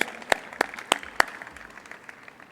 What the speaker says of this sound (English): Let's give just a round of applause.